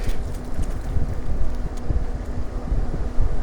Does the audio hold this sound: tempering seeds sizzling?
no